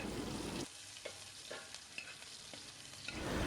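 Garlic sautéing in a pan for a Kerala pork roast, with steady frying sizzle and a few light stirring scrapes and taps, close and continuous with no talking.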